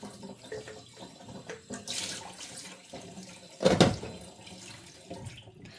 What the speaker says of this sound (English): I filled my pot with water